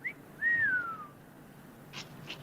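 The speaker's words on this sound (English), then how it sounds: "That guy whistled." A man whistles a short rising-falling tune, the main note a sliding whistle of about a second preceded by a brief chirp, followed by two faint soft bursts; quiet indoor setting, no talk.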